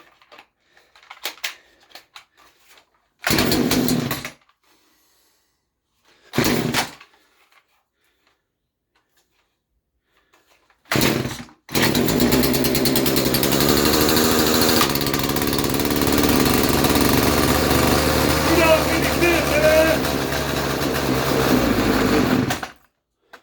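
Husqvarna or Stihl chainsaw at a rummage sale, with a few short pull-start bursts separated by silence before the small two-stroke engine catches and runs continuously, loud and close.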